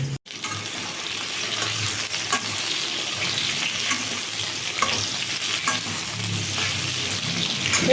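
Pieces of pointed gourd (potol) sizzle steadily in hot oil in a pan, making a loud, continuous frying hiss close by with occasional stirring scrapes.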